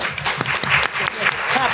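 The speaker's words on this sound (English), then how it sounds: "Clap it up for that." Audience clapping through the whole stretch, a steady patter of many hands with a few sharp accents, while a voice speaks over it.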